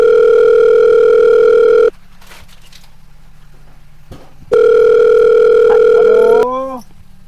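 A telephone ringback tone sounds while a call is placed: two long, loud, steady tones separated by a silent pause, the second cut off by a short rising electronic chirp.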